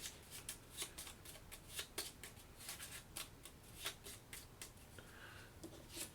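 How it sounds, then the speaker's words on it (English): Cards from the Aeon Trespass: Odyssey board game are shuffled by hand, a run of quick crisp riffling snaps in an irregular rhythm, close and fairly quiet. "Shuffle this card back into the trauma deck."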